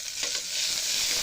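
Onions and curry leaves with green chillies fry in hot oil in a pan and get stirred, giving a steady close sizzle with brief scraping strokes.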